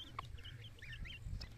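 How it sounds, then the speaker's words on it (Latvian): Young geese or ducks, kept outdoors alongside chickens, give faint, high, quick chirping calls over a low background rumble, with a few short peeps close together. "Tās nav vistas, tie ir kaut kādi zosis vai pīles."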